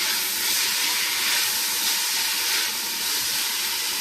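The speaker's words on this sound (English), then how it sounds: "We're going to saute these veggies real quick." Chopped vegetables sautéing in a hot pan for spaghetti and meatballs, a loud, even hiss of steam and sizzle close by, holding steady with no talk over it.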